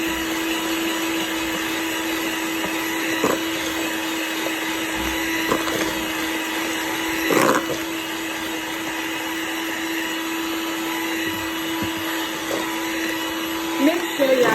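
Electric mixer whirs steadily through red velvet cake batter with eggs and vanilla, a continuous close motor drone lasting throughout, with a few faint knocks and a voice speaking briefly over it.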